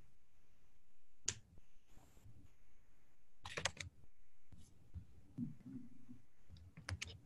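Sparse, irregular clicks and taps from a computer keyboard during an online meeting, quiet and isolated with gaps between them and a low hum underneath.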